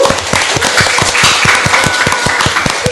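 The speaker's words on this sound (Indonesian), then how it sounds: "tepuk tangan dong untuk kalian" A small audience of teenagers at a PKK Samarinda podcast taping claps in a brisk, slightly uneven rhythm, each clap sharp and close, no talk over it.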